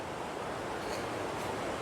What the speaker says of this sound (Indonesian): Sungai yang dimaksud ini, tapi deras juga ini sungainya.